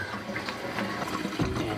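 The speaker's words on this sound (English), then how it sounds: "where we got ice cold water running through the tap" Cold water from a kitchen tap runs steadily into a sink, a close continuous splashing rush with a brief louder burst near the end, no voices.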